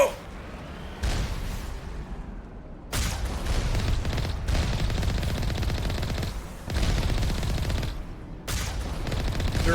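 Automated gun turrets in the Mass Effect Legendary Edition game unleash sustained bursts of rapid gunfire, loud and dense, broken by short pauses between volleys.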